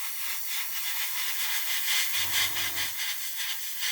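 Thinner sprays onto a beginner's model paintwork in a steady close hiss lasting the whole stretch, with a brief low hum rising underneath midway, no voices.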